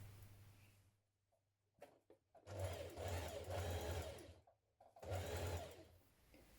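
A home sewing machine stitches a knit sleeve into a top, running in two long bursts of steady whirring with short pauses between, close and clear with no talking.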